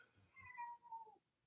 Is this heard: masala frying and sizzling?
no